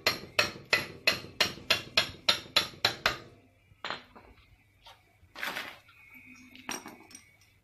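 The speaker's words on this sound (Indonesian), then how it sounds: "Ini saya coba menggunakan palu supaya" A hammer drives the link pin into a Honda Supra Revo motorcycle drive chain with a quick, even run of about nine close metallic taps, then a few scattered knocks and clinks.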